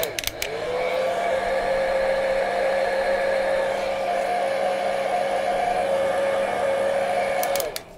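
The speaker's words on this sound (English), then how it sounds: "He's griping about my heat gun." A 13-year-old heat gun dries fluid acrylic paint with a steady, loud whine of blowing air for several seconds, cut off by switch clicks at the start and end.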